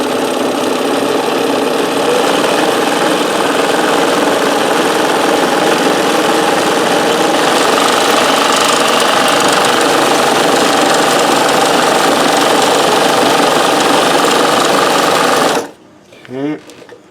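A Janome 672 sewing machine stitches a decorative pattern at its longest stitch length, a loud, close, steady mechanical whir with rapid needle chatter that runs without a break, then stops abruptly near the end.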